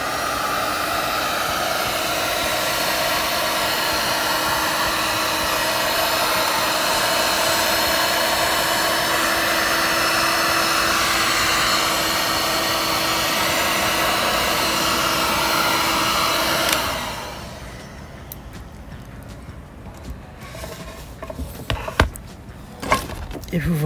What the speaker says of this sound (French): Je prends un sèche-cheveux. Enfin, non, c'est pas un sèche-cheveux. Une thermique.